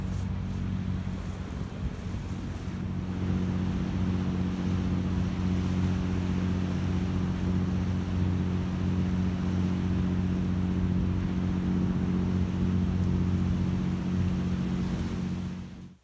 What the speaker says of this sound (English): The boats are going out to sea